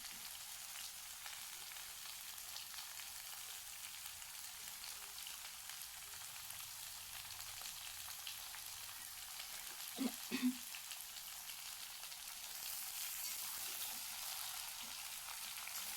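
Cauliflower and mixed vegetables frying in a pan, a faint steady sizzle running throughout with a couple of brief clinks near the middle.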